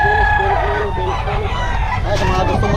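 A mayahin gamefowl rooster crows repeatedly at close range, its loud drawn-out calls rising over a busy background of other fowl clucking and a low, steady ambient rumble.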